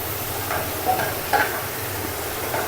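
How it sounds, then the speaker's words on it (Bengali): Beef frying on a stove hisses steadily while a spatula stirs it, adding a few light scrapes and clicks over the continuous sizzle. "এখানে হচ্ছে বিফ চুলায় এটা কষাচ্ছি, কষা কষা হবে।"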